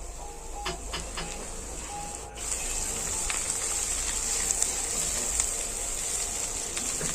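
Potatoes and mixed fish cooking in a pan while being stirred, a steady close hiss and sizzle with faint scraping clicks, rising slightly louder partway through and continuing without talk.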